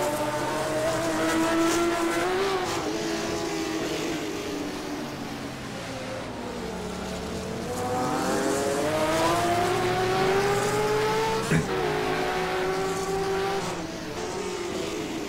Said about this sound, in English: I must emphasize that Ferrari engine sounds gorgeous